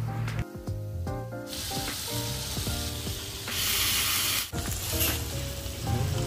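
Paneer frying in hot butter in a pan, a close hissing sizzle that swells loudly midway, over a background of music-like tonal sounds.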